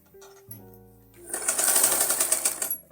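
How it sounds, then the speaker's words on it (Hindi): Close, rapid whirring of a sewing machine reinforcing a seam on fabric starts after a quiet moment and runs steadily for about a second and a half. "इसमें सिलाई पक्का करेंगे।"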